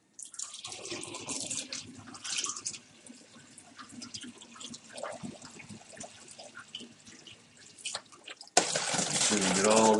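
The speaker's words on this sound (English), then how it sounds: "And you pour that into your carboy" Homemade apfelwein brewing: sugar water is poured into a carboy, trickling and splashing liquid sounds in uneven bursts, followed by a louder rushing pour near the end.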